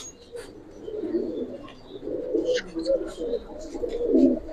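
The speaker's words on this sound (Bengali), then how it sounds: "বেগুনি কালো কবুতর" Pigeons of a fancy breed, a purple-black pair among them, coo in low, rolling bursts at close range, with a few faint chirps and rustles over a steady background murmur.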